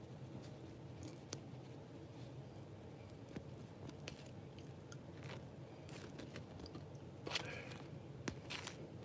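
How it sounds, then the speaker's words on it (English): Crunchy bites into buttered corn bread, a few crisp close-up crunches and chewing scrapes spread across a quiet room, with sharper bursts near the end. "Hear that crunchiness?"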